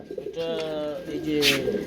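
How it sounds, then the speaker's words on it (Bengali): Pigeons coo in low, rolling, throaty calls lasting a couple of seconds, close and fairly loud. A brief hiss-like burst cuts in near the end. "বড় ভাই এগুলো কি দেখাইতেছেন আলম ভাই পোটার কবুতর"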